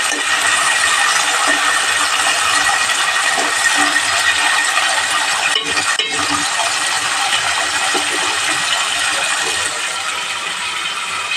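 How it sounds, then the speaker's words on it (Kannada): Green chillies fry in oil in a pan for healthy avarekalu upma, giving a steady, loud crackling hiss throughout with no talking. "ಚಿಲ್ಲಿ ಸೇರಿಸ್ತಾ ಇದ್ದೀನಿ ಚೆನ್ನಾಗಿ ರೀತಿ ಫ್ರೈ ಮಾಡ್ಕೊಳ್ಳಿ"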